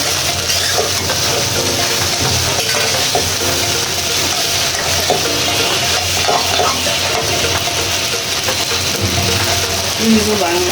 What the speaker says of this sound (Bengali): এখন সেই নুডলসটা আমি দিয়ে দিচ্ছি।